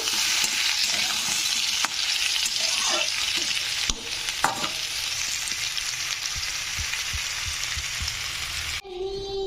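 Drumstick pieces, potato and eggplant with lentil dumplings fry in a pan, giving a loud, continuous close sizzle with occasional stirring scrapes and clinks until it cuts off abruptly at the end.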